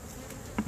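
Honey bees swarm around an open hive, their buzzing a faint, steady drone that swells briefly near the end of the short moment.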